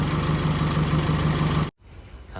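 A Chevrolet Colorado engine idles steadily with a low, even rumble, then cuts out abruptly, leaving quieter background noise.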